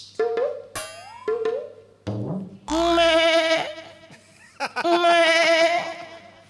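A comedian imitates a goat's bleating with his voice, a series of loud, wavering, nasal bleats in quick succession during a stand-up comedy set, with no other talk in between.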